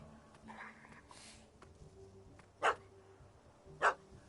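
A puppy in The Witcher III video game barks at a cat up a tree: two short, sharp barks about a second apart, fairly close, over low ambient game sound and faint background voices.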